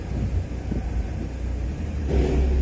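A car rumbles at low idle while being driven onto brake tester rollers at a Spanish vehicle inspection station, its engine swelling louder near the end as it moves forward, with no talk.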